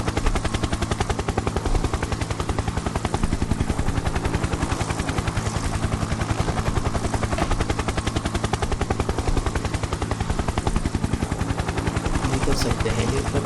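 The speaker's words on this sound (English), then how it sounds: "Because of the helicopter sound, I think we can't hear the boost sound clearly." Helicopter engine in an Unreal Engine video game, a loud continuous rotor chop with a fast, even beat that fills the whole stretch without letting up.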